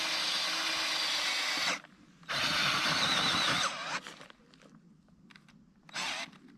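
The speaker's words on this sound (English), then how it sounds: "We'll drill us a hole back in the ground here" A power drill bores a hole into the ground in two loud, sustained whirring bursts, each stopping abruptly, followed by scraping and handling noises and a final short burst of the motor.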